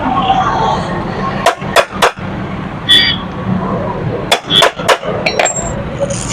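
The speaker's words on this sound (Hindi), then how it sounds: "यहाँ पर किसी हथौड़ी से इसके ऊपर ऐसे हीट कर देना है।" Hammer strikes on the clutch housing of a Pulsar motorcycle engine during a repair, two short clusters of sharp metallic knocks, three quick blows then four, close and loud over background noise.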